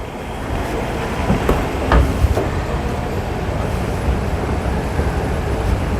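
A Singapore metro train pulls into Bayshore station with a loud, steady rumble and roar. A few clanks and thuds rise above the noise, and no voices are heard.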